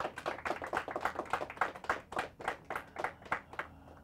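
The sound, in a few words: audience applause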